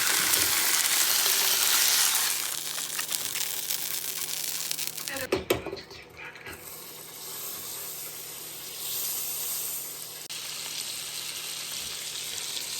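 Food frying in a pan on a home electric hob, a continuous close sizzle and hiss that drops in level partway through as the food is moved around, with brief clatter and quieter sizzling after.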